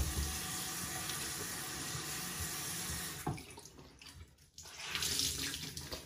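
Tap water runs steadily while cream is rinsed off an arm at a sink or shower, a continuous hiss that briefly dips and then surges louder near the end.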